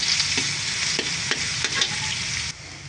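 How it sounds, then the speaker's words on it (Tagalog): Garlic and onion sautéing in a pan before ground meat goes in, a dense close sizzle with a few light stirring scrapes, fairly loud and steady. "gigisa tayo ng bawang"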